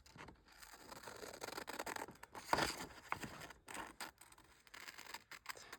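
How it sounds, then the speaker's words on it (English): Scissors snipping through a paper tag cut from a quilt-square embellishment at a crafting table, a run of soft close rustling cuts with one sharper snip midway, no voices. "I'm going to go ahead and cut that one out"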